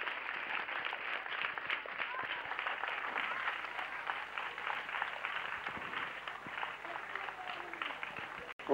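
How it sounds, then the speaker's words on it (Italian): Applause from a planetarium audience in Turin, a dense, continuous patter of many hands clapping at a steady level, with faint voices mixed in underneath. "Un grosso applauso anche dal nostro planetario di Torino."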